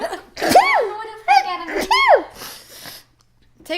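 A person lets out two or three loud, close sneezes in quick succession, with a short breathy vocal sound between them and a brief pause after.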